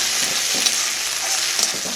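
Onion stir-fried with about three spoons of ginger-garlic paste for a chicken and jackfruit mince curry, sizzling steadily with a couple of soft spatula scrapes, close and alone.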